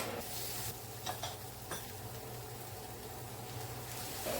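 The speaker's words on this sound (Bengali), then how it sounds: "রসুন কুচিটা দিয়ে কিছুক্ষণ ভেজে নেব" Chopped garlic fries in a pan for a Kolkata-style chicken biryani, a quiet, steady hiss with a few soft stirring taps, close but faint and without talking.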